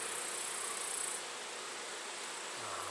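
Honey bees buzz steadily and densely around an opened hive frame being worked by a beekeeper, a close, continuous hum with no talk.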